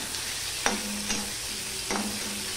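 Onions with green chillies fry in a pan over a soft, steady sizzle, broken by about three sharp scrapes of a spatula stirring them; no voices.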